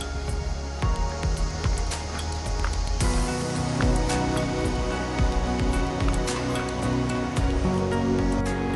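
Bubbling, gushing water heard up close as a steady rushing, burbling wash with no pauses throughout.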